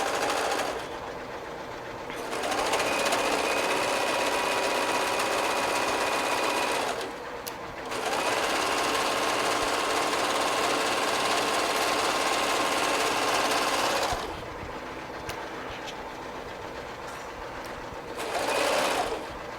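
A serger sewing machine chain pieces fabric for a beanie hat, running in three long loud whirring bursts with brief pauses between, close and alone.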